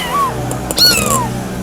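A black cat meows nearby: a short rising and falling cry followed by a second, louder meow over a steady low background hum.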